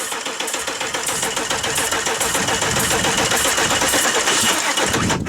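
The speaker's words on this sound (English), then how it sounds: "Oh, the poor starter." Diesel engine starter motor cranking over on a cold start, with a dense, loud, continuous churning rhythm that persists throughout and masks everything else.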